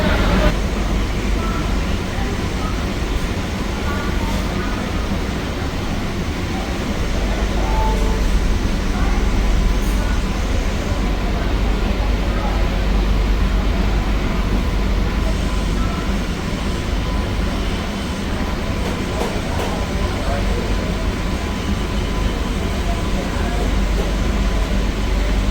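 New air-conditioned EMU train on the Chennai Beach to Chengalpattu line, a steady loud rumble and rolling drone heard from inside the carriage for the whole stretch, with a faint murmur of voices in the background.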